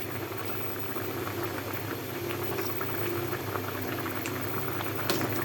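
Fish and potato curry simmering in a pot, a steady close bubbling and gurgling boil with a soft patter of bursting bubbles and one brief clink near the end, no talking.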